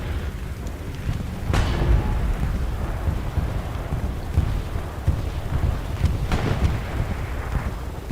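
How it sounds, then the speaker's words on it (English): Bombing-run explosions in a strategy war game: deep, rumbling booms roll continuously across the clip, with two sharper blasts cutting in near the start and again toward the end, loud and close with no voices. "that was just a double bombing run"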